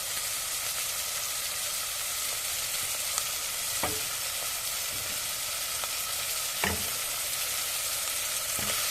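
Green chillies frying with onion and garlic in a pan, a loud continuous sizzle with a few spaced spatula scrapes against the metal, no talking.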